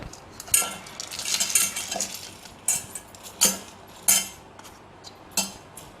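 Washed lentils go into a small pressure cooker for sambar, with a series of close, sharp metallic clinks and scrapes of a spoon against the pot, spaced irregularly with short pauses between them.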